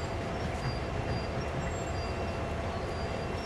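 A steady, dense rumble of a train rolling along the rails in a train simulator video game, with faint high squeals, continuous and fairly loud.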